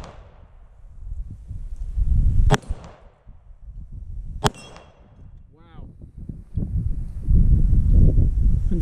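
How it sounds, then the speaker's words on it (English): A 9mm pistol loaded with toy gun caps fires at a steel target, giving two sharp cracks each followed by a brief metallic ring, set against outdoor wind rumble and brief talking. "You should be able to hear the rings if I do hit the target."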